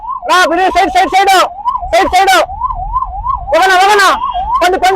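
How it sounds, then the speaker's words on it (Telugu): An ambulance siren wails in a rising and falling pattern, loud and close, with horns and voices breaking in over steady Bengaluru traffic rumble. "అంబులెన్స్ కూడా చూడు ఎంత ఇదిగా ఉంది, ఎంత లేట్ అయిపోతుంది"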